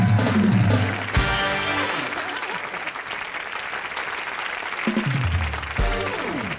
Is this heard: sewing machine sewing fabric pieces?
no